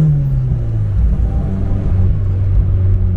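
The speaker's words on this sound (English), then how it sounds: "put our wheel breathe into the throttle and see what our this Opel Kadett SUPERBOSS goes" An Opel Kadett GSi 16V Superboss fitted with ITBs accelerating, its engine rumbling loud and close, the pitch sliding down then holding in a steady heavy drone.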